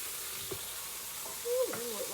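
Burger patties frying in a pan, a soft steady sizzle with a brief louder hiss as they are flipped, close and without speech.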